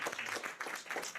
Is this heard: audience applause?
yes